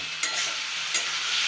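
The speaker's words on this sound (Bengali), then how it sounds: "আমার ভাজা হয়েই গেছে শশা ভাজা" Cucumber pieces fry in a pan with a steady, close sizzle, broken twice by short scraping stirs.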